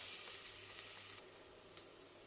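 Onions sauté in a pot for pumpkin soup, a faint, steady hissing sizzle with a couple of light clicks of stirring.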